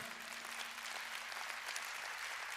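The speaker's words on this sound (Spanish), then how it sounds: "denle un aplauso al Señor" Congregation applause at a Spanish-language church worship night, a steady dense wash of clapping from a crowd filling the whole moment with no speech over it.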